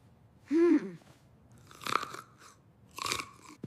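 Close, crisp crunching as a child chews food. Three separate bursts spaced about a second apart, with a short vocal sound before the first, in a quiet room.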